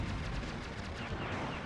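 A bomb detonates in the arcade shoot-'em-up Aero Fighters, a thick, rumbling burst of explosive noise that fills the short moment loudly, with rapid crackling bursts layered on top.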